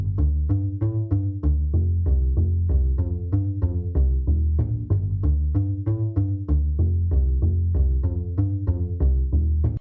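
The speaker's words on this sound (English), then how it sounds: "This is just a double bass." Double bass sample from an orchestral strings pack playing a loud, steady run of deep, rounded low notes in a repeating groove, with no voices.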